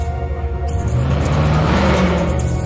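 A Track Hawk-style Jeep Grand Cherokee Trackhawk car roars past, engine swelling to a loud close peak and tapering, with a rising revving whine.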